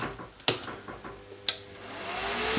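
A Dnipro-M MMA 250 welding inverter gives two sharp switch clicks about a second apart, then a low electrical hum and cooling-fan whir that gradually swells as the machine starts running.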